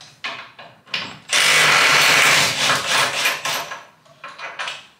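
Impact gun loosening the motor mount bolt on an AK47 build, a few short bursts of whirring rattle followed by a long sustained run, then more stuttering bursts, close and loud with no talk.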